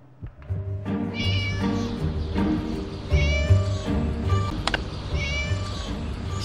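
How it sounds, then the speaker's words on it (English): A cat meows in the Scary Teacher 3D video game, giving several loud, drawn-out meows in close succession, clear and near, with short pauses between calls. "Shut up, you silly cat."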